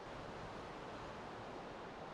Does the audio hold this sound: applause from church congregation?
no